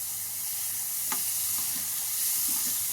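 Cooked beetroot being stirred into a sizzling tempering in a pan, a continuous hiss of frying with a sharp utensil scrape partway through and softer stirring knocks afterward.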